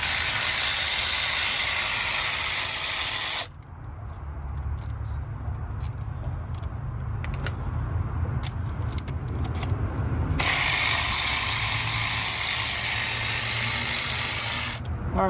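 A hand ratchet loosens 12 mm bolts on a Lexus ES 300 during a knock sensor replacement, its rapid pawl clicks loud and close in two long bursts with a quieter stretch of scattered ticks between.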